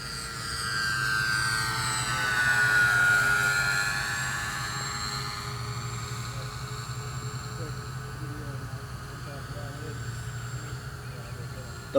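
A Dynam E-2C Hawkeye RC model airplane with flaps deployed drones overhead with a steady electric motor whine that rises and falls as it passes, fairly faint and continuous throughout.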